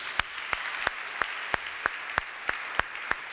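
A church congregation claps in a slow, even rhythm, about ten sharp claps spaced regularly under a soft background wash, moderately distant.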